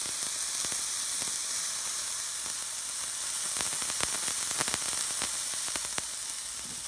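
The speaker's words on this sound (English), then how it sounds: "Sexy sizzle action." A beef burger patty sizzles steadily in a skillet, a dense hiss with scattered pops and crackles that runs throughout at close range, with no voices.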